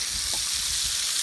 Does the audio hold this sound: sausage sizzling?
yes